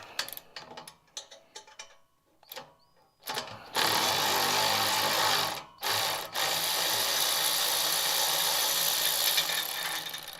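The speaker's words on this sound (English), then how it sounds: "I put the wrench up there and was hoping that it would grab, and it grabbed." A wrench ratchets in quick clicking bursts on a transmission bolt under a 1959 Ford F100, tucked behind the starter motor, followed by a loud sustained rushing hiss with a brief break.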